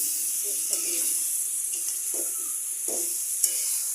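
Meat cooking with garam masala and raw onions hisses and sizzles steadily, with a few soft stirring scrapes and occasional faint taps at close range.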